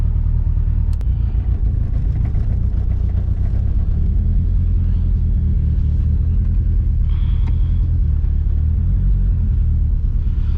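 A lowered turbo 2G DSM car backs slowly out of a garage, its engine giving a loud, steady low rumble that continues alone without a pause.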